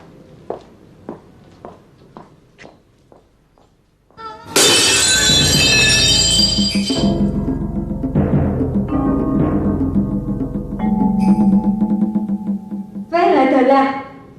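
Footsteps tap in an even rhythm, then something shatters with a sudden loud crash. Bright ringing and clattering follow, with another burst of noise near the end.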